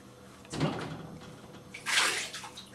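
A small child splashing in bath water in a home bathtub, two soft sloshing surges close by with a quiet room in between.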